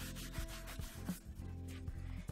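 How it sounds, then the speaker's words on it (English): A paper towel rubs and wipes excess ink from an embossed card, making a soft, steady scuffing close by that continues without pause and with no talking. "Now I'm taking my paper towel and I'm just wiping off the excess ink again that's sitting on those embossed"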